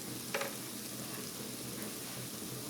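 Spices frying together with onions in a pan for a spicy ayer fish curry, making a faint, even sizzle throughout with one brief stirring clink near the start.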